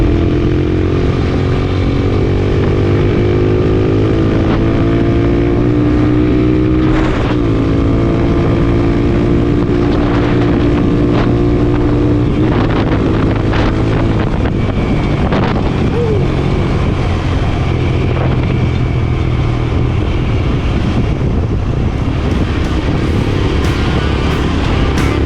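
A motorcycle engine roars continuously while riding, loud and close with steady wind buffeting the microphone, the pitch rising and shifting as the bike accelerates through gears.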